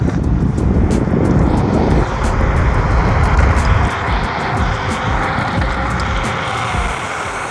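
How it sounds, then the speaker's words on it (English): A NANROBOT N6 72V electric scooter accelerates hard from 0 to 30 mph, loud rushing wind buffeting and rumbling road noise building over several seconds with a faint rising motor whine, close to the rider. "So now check the acceleration speed, 0 to 30 miles per hour."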